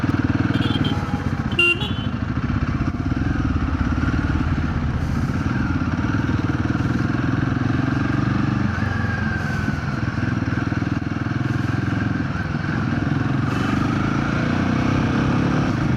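A Royal Enfield Himalayan 450 motorcycle engine runs steadily at close range in traffic for the whole stretch, with passing traffic noise and occasional clatter around it.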